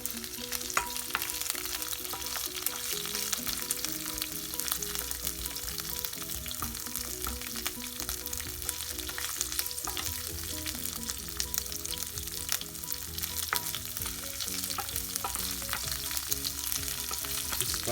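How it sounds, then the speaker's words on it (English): Vegetables for chicken adobo sauté in a hot pan, a steady loud sizzle and crackle with occasional stirring scrapes running unbroken throughout, no voices. "We're sauteing the vegetables."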